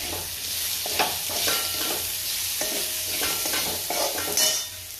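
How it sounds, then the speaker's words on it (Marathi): Garlic, onion and ginger-garlic paste fry in a pan, a steady close sizzle broken by repeated scraping stirs of a spoon against the metal, with no voices over it. "तिकडे लसूण टाकलेला आहे, त्यात कांदा टाकलेला आहे, आले लसणाची पेस्ट होती आणि हा कांदा."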